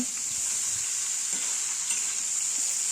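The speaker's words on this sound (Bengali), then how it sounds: "প্রথমে আমগুলো একটু তেলের মধ্যে হালকা করে নেড়ে নেব" Mango pieces, cut into long strips for pickle, are stirred lightly in hot oil, producing an even, close frying hiss that holds steady with only faint stirring movement beneath it.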